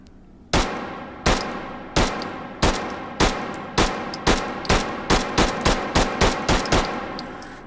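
Pistol shots from a 15-round magazine in the video game Hot Dogs, Horseshoes and Hand Grenades: about a dozen sharp, loud reports that start spaced out and then come faster and closer together.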